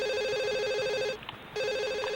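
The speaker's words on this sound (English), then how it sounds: "Answer the phone" Electronic telephone ringing in The Sims Bustin' Out, a warbling trilled ring that pauses briefly and then resumes, clear and close with no talk.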